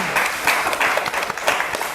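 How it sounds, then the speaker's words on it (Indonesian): A classroom of students applauds in Indonesia during a school project lesson on recycling waste. The clapping is dense and steady and lasts through the short stretch, close and fairly loud, with no talk over it. "tepuk tangan dulu buat Leoni."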